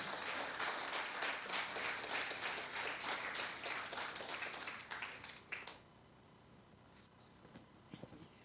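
An audience at an evening seminar welcomes a psychologist with applause. It is fairly quiet, with dense clapping that thins out after about five seconds and stops, leaving near silence with a few faint sounds.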